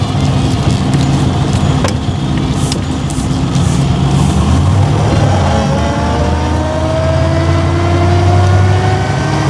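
A 1929 Marmon Model 78 sedan drives in second gear around the Indianapolis Motor Speedway, its engine holding a steady, loud drone with rising tones as it pulls, heard up close with no talk.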